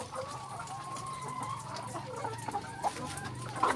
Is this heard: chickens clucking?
yes